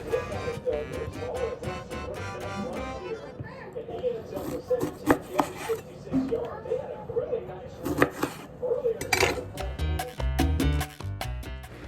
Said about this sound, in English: Then I'm going to cut up my red onion, very thinly sliced,